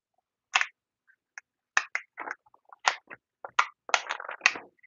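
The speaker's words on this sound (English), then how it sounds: "I'm going to open this box." A cardboard box being opened up close, heard as scattered crinkly rustles, scrapes and tearing bursts with short silent gaps between them.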